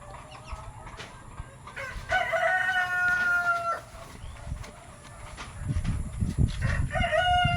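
A rooster crows several times with a clear, drawn-out call, alongside clucking hens and low rumbling background noise.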